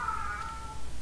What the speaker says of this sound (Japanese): だんだん近くなってんな、猫の声。